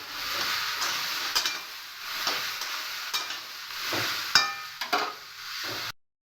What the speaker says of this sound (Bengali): এরকম নাড়াচাড়াকে একটু নেড়ে নিচ্ছি